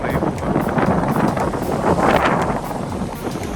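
Strong sea wind roars and buffets the microphone without pause over the open water between Ap Lei Chau and Lamma Island in Hong Kong, a loud, dense rumble throughout.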